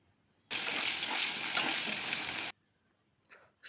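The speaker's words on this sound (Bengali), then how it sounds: "একই তেলে ছোট আলুগুলোতে একটু নুন আর হলুদ দিয়ে" Small potatoes seasoned with salt and turmeric fry in oil, a loud, steady sizzle lasting about two seconds that cuts off abruptly, followed by a couple of faint knocks.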